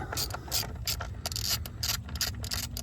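A nut on a Ford EcoBoost engine is loosened with a ratchet, giving quiet, close clicking in uneven bursts over a steady low hum.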